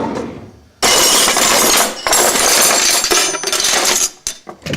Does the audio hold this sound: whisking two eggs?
yes